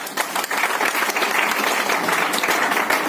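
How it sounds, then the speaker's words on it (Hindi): Loud, dense applause from an audience at a Modicare business training meeting in Muzaffarpur, Bihar, sustained and steady throughout with no break. "जोरदार ताली बजाइए देखो।"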